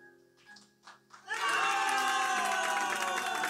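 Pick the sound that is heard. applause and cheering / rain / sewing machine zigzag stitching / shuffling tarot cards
applause and cheering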